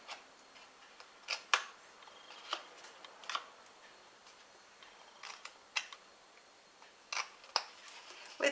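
Scissors notching a scored piece of cardstock, a series of sharp, quiet snips and clicks scattered irregularly, some in quick pairs, over a near-silent background.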